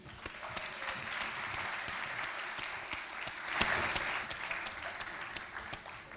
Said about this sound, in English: A big clap once again.